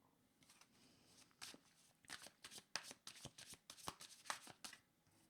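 A deck of tarot cards is shuffled and changed by hand, giving a run of quick papery riffles and soft slaps, close and quiet with no talking.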